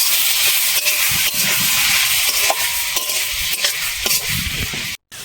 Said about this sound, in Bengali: নেড়ে দিচ্ছি ভালো করে।